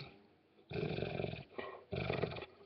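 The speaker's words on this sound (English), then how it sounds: "It's a very clever dog." A male American bulldog growls in two throaty bursts close by, a short pause between them, with no talk over the sound.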